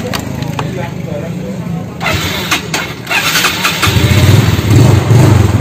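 A motorcycle engine runs with a steady mid-pitched rumble that grows louder and rougher partway through, with clicks and light handling noises near the microphone.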